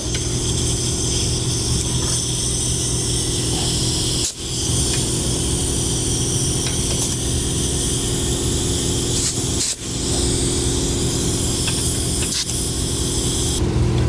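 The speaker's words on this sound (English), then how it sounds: "We'll spray down our fittings with some soapy water, making sure we don't see any air bubbles." Long hissing bursts of a spray bottle spraying soapy water on air helper spring fittings of a 2016 vehicle, close and continuous, broken by two brief pauses, with a low engine hum underneath.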